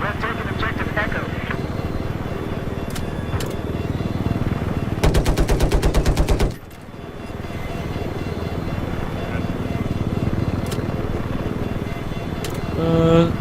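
A Battlefield 4 helicopter rotor drones steadily throughout while a burst of rapid machine-gun fire rattles for about a second and a half in the middle, with scattered single shots and voices talking over the action.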